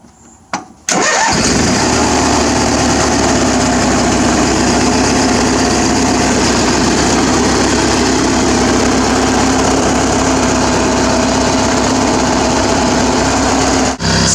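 A Craftsman lawn tractor's small engine sputters to life and then runs at a steady, loud rumble close by, idling continuously without pause, oil burning off the exhaust pipe.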